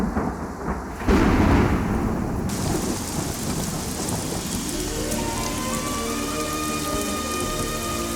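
Heavy rain pours steadily on surfaces while thunder rolls and rumbles low underneath, with a loud crack early on, the downpour continuous and close for the whole stretch.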